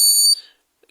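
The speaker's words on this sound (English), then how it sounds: "So this is a buzzer, you can just add it if you want it." A buzzer on a DIY NE555 electronic password lock circuit gives one short, loud, high-pitched electronic tone that cuts off abruptly, then silence.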